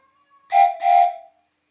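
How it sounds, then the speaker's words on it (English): A small 3D-printed toy train whistle is blown in two short, loud blasts separated by a brief gap, giving a bright, breathy chord, with a faint tone just before. "It's a little train whistle."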